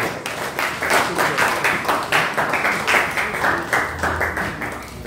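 A church congregation applauds in steady rhythmic claps during worship, a full, sustained clapping that stays loud and even throughout with no talk over it.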